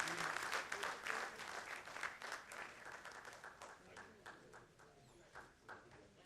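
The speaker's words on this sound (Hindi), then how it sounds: "आप सब जोरदार तालियों से हम उनका अभिनंदन और स्वागत करते हैं।" A crowd at a press conference bursts into steady, dense clapping to welcome guests, loud at first and gradually thinning out, with voices heard underneath.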